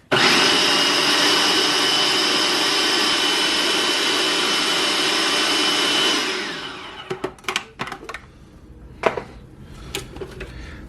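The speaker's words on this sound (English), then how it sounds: "Add them to a food processor. Then I'm going to puree it." Food processor pureeing cooked, room-temperature vegetables: a loud, steady motor whir that runs for about six seconds, then winds down and gives way to scattered clanks as the lid and bowl are handled.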